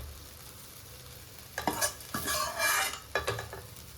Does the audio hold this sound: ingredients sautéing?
yes